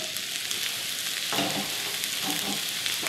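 Sausage and peppers sauté in a pan with a steady, bright sizzle and crackle, and a light stirring scrape joins partway through.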